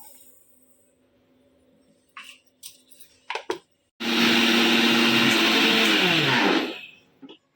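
A mixer grinder whirs loudly for a few seconds grinding green chili and potato after some brief clatter and knocks, then winds down and stops.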